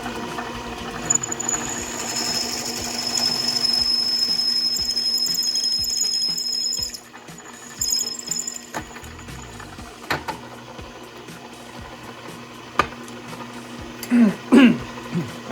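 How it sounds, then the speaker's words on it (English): A drill fitted with a 17/64 bit runs steadily at a high whine for several seconds while working on parts for a homemade custom TRX50R ATV, then stops, followed by scattered clanks and handling noises. "I have a 17/64 drill bit mounted in here"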